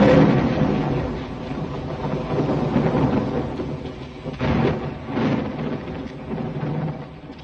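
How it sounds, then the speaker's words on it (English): Thunder in the 1937 animated film Snow White and the Seven Dwarfs, deep rolling rumbles that swell and fade in broad waves, loud and continuous with no music or dialogue. "No music, no pleasant backdrop, no dialogue, just the sound of thunder."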